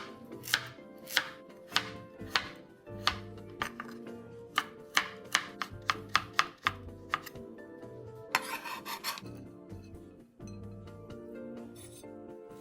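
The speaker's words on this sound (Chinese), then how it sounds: "芋头150克，一样切成粗丝。" A knife chops taro into thick strips on a cutting board, a steady run of crisp, close, evenly paced chopping strikes with a short quick burst near the end.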